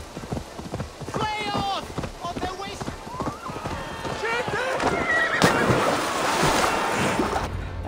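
A horse ridden in the video game Assassin's Creed Valhalla gallops with steady clip-clop hoofbeats and whinnies, set against game ambience with surf-like wash, while a person talks over it.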